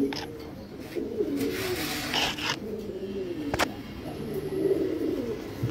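Giribaz pigeons, including a silver pair, cooing in a loft, soft repeated throaty coos close by with some faint background voices and noise.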